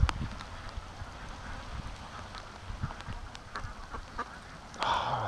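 Free-range ducks quacking outdoors near their pen, a few scattered calls over steady background noise like rushing water, with a louder burst of quacks near the end.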